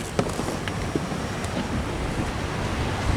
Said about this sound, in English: Seas are very rough today.